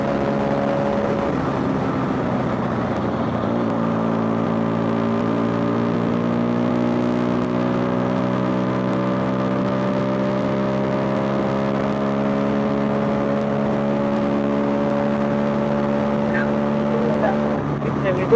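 A motorbike engine running steadily, a loud low harmonic drone that rises gradually in pitch as it revs up, close and continuous throughout, with a voice faintly beneath it.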